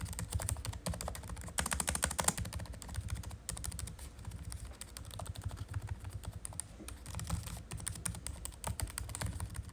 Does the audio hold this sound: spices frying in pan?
no